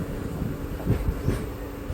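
A train running along the railway line between Boko and Guwahati, a low continuous rumble with faint rhythmic wheel thumps, heard from on board or close by.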